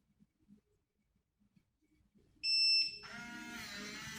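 A Defiant keyless deadbolt gives a sustained electronic beep before auto-locking, starting suddenly after near silence and holding loud and steady to the end.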